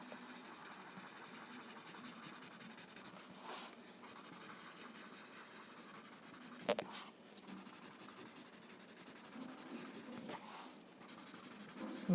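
Pencil shading and blending on paper while working on tangle drawings: a steady, soft scratchy hiss of graphite rubbing across the sheet, continuous and close, with a few brief louder strokes and no talking.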